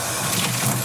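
Hot water gushes from a tap into a bucket in a brief, steady rush of splashing.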